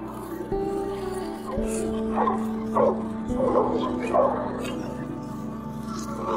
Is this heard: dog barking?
yes